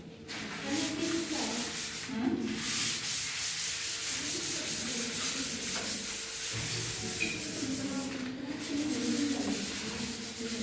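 Writing rubbed off a board in brisk back-and-forth strokes, a dry scrubbing swish in short bursts with brief pauses between them, close and fairly quiet.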